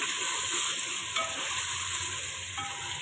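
Garlic ginger paste fries with spices and tomato in a pan for chicken haleem, producing a steady, close, bright sizzle that runs without a break, with light stirring and no speech.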